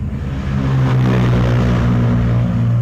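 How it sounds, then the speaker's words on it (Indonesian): Roadside traffic on a busy street outside a used-car market in Sidoarjo, Indonesia, with cars and motorcycles passing. A loud, steady engine drone with a low hum continues unbroken and close by. "Mohon maaf ya agak berisik karena ini memang posisi kita di pinggir jalan ya."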